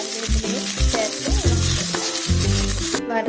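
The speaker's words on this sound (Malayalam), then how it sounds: "നമ്മൾ കടുക്, വറ്റൽമുളക് എന്നിവ വെളിച്ചെണ്ണയിലേക്ക് ഇട്ട് നമ്മളൊന്ന് ചട്ടി വെക്കുകയാണ്" Mustard seeds and dried chillies fry in hot coconut oil in a pan, giving a loud steady sizzle with crackling pops and short bursts of stirring throughout, then it cuts off abruptly at the end.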